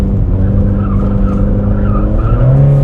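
A GD3 Honda Fit fitted with alignment shims drives through a roundabout, a loud, steady engine drone heard from inside the car. A rising tire whine from the sliding tires joins near the end.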